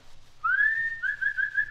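A man whistles for his dog: one sustained, slightly rising whistled tone with a short break and a second steady note, clear and fairly close, over a faint crackly background of an old 1928 recording.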